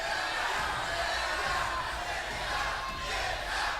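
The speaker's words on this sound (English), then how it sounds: "Can we get a get out chant from the crowd?" A live studio crowd at a Star Wars movie trivia game show chants loudly and continuously, a dense roar of many voices sustained throughout without a break.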